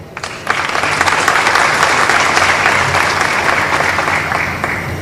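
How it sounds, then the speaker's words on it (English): A large audience at a university graduation ceremony in Somalia bursts into sustained, dense applause that starts sharply and stays loud and steady throughout, with a faint murmur of the crowd beneath the clapping. "let him give a big round of applause for Abdul Fattah"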